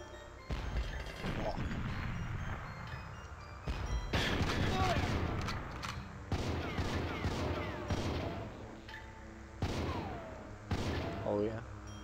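Gunfire in the video game GoldenEye 007, repeated bursts of shots and crashing impacts, loud and close, with people talking over the action.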